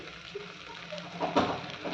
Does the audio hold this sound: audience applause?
no